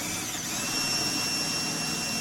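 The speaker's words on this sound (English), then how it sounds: "There's a little drill and then we'll get a big one through." A small power drill bores a hole through the body panel of a Peugeot J9 van, a steady high-pitched whine that holds constant and loud throughout, with no talking.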